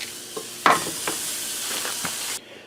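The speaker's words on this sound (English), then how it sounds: "I'm going to get my patties down on the griddle pan and get these fried up" Hamburger patties fry on a griddle pan with a steady hiss, broken by a few sharp clatters and scrapes, and the sizzle cuts off abruptly near the end.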